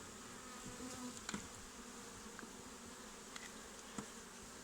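Honeybees buzz steadily during a honey harvest, a dense continuous hum with faint scattered clicks, moderately quiet and with no voices.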